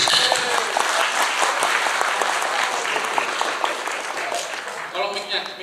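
An audience claps steadily at an Indonesian regional police public-relations gathering with social media activists. The dense applause is close and lively and runs the whole time, then thins toward the end.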